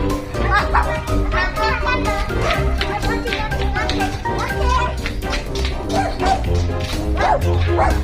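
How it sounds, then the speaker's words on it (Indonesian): A dog barks and yips repeatedly amid children playing and chattering near an ondel-ondel street procession in Betawi, with music or busy background noise throughout. "Wah, ada guguk, guys. Awas, ada guguk."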